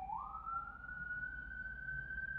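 An emergency vehicle siren wails somewhere outside in Atlanta, a faint rising tone that climbs and then holds high, heard at a distance over low background rumble.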